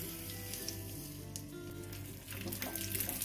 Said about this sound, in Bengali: 2 থেকে 3 মিনিট গ্যাসের ফ্লেমটাকে লো টু মিডিয়াম করে নিয়ে ভেজে নেব